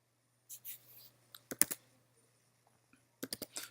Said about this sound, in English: So we will type